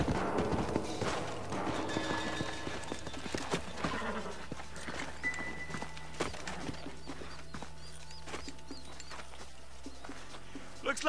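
Horses' hooves clip-clopping at a walk in the video game Red Dead Redemption, soft irregular thuds under a low musical drone, with voices talking at times.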